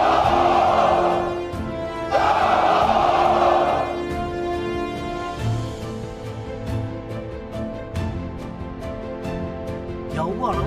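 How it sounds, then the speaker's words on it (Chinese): Army soldiers roar and cheer in a massed crowd, with two loud bursts of shouting early on, then a sustained rumbling hubbub punctuated by sharp hits. "北伐军队连胜数场，士气高涨，士兵们欢呼雀跃。"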